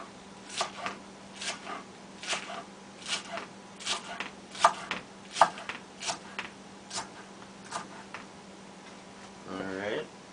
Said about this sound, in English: Let's cut up the spinach here.